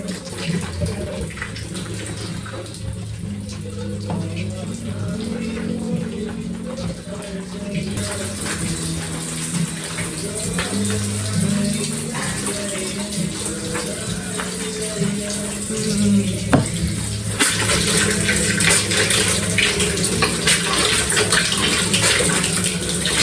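Tap water pours steadily into a bath while underwear is washed, a loud continuous gush and splash that runs the whole time with a slight shift partway, with faint background sounds.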